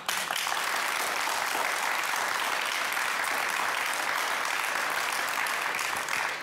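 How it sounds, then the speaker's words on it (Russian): Audience applause at an interview or public talk, a dense, steady clapping that fills the whole stretch at a moderate level. "Аплодисменти."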